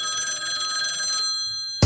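Electronic telephone bell ringing in a steady, bright pulsing tone used as an effect in a song, loud and alone for most of the moment before cutting off abruptly.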